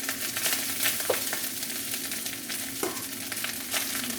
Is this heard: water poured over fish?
no